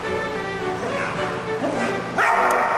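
Several dogs bark and yip in quick, excited bursts while one dog corrects another, loud and close, with a louder outburst near the end.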